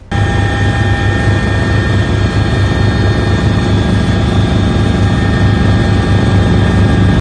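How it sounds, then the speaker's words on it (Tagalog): Philippine Navy helicopter landing on a US destroyer, a loud steady rotor and turbine roar that holds constant and close from start to finish, with no voices. "ang helicopter ng Pilipinas ay lumapag sa destroyer ng Amerika"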